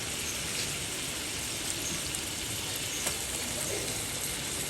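Chopped potato fries in a pan with a steady, dense sizzle that holds evenly throughout, close and continuous with no voices.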